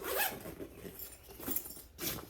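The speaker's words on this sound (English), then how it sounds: "Got a good zipper right here, pretty good zipper handle and zips." A zipper runs along a Milwaukee M12 fuel tool bag, four quick raspy zips in a row, close and fairly quiet, with no voices.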